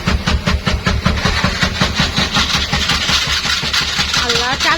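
A CNG auto-rickshaw engine with water inside it cranks over and over in a fast, rhythmic chugging that never quite catches. The sound is loud and close, with voices talking over it.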